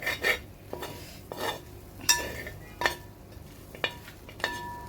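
A metal spoon stirs mutton roast drying down in a pan, with about seven separate scraping, clinking strokes against the pan at an irregular pace, close and clear, and no voices.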